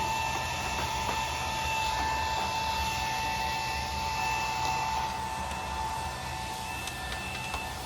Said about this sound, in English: this is a hair dryer, but he's using the fan thing, so it's not actually blowing here,